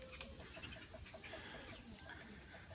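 Domestic roosters clucking on a farm: a run of short, repeated calls in an even rhythm over a constant noisy background, with no talk.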